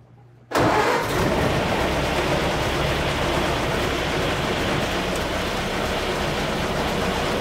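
A 1930 Model A sedan engine cranks and catches after a brief quiet start, then runs as a loud, steady, rough idle close by for the rest of the clip.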